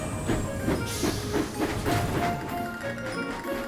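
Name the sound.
steam engine puffing along rails, Thomas & Friends cartoon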